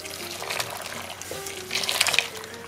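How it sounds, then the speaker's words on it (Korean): Broth is poured into a pot, a soft continuous liquid splash and trickle that swells briefly near the end, fairly faint and close. "준비한 육수를 3컵을 넣어주세요."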